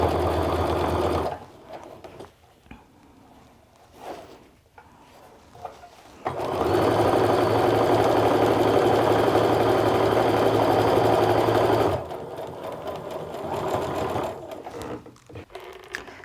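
A sewing machine stitches quilt pieces together, running in a steady mechanical whir for several seconds, with shorter start-stop bursts before and after, close and alone.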